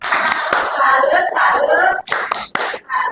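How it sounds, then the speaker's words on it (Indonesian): Workshop participants perform a rhythmic patterned clap, sharp bursts of hand claps in quick groups separated by brief pauses, with voices chanting along in time. "Tepuk salut."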